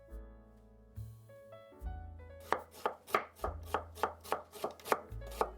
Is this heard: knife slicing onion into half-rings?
yes